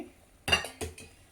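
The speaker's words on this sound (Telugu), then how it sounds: "పూర్తిగా కలపెట్టుకుంటాం, ఉండలు కట్టకుండా." A spoon stirs wheat rava batter in water with a few quick, close clinks and scrapes against the vessel, two distinct strokes followed by a faint third.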